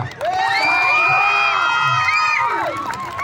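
Lively crowd of artists at an outdoor flashmob dance event for World Dance Day in Salatiga cheering and whooping loudly, with high shouts and children's voices over scattered clapping throughout.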